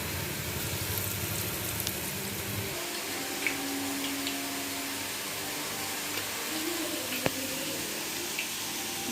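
Ladies finger vadai frying in hot oil, a steady broad sizzle and bubbling hiss continuing throughout at an even level.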